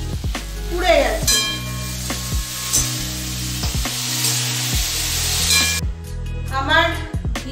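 Okra frying in a pan on a gas flame, scorched from overcooking, giving a steady close sizzle and hiss with occasional stirring clatter and brief bursts of louder crackle.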